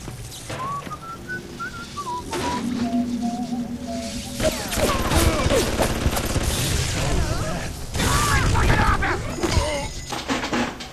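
Turret gunfire in the BioShock video game, bursts of rapid shots and booms amid whistling game effects, loud and busy, with a player's voice faintly present.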